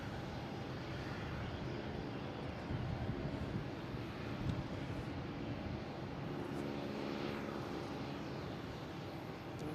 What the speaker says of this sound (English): JetBlue coming in special livery on 27.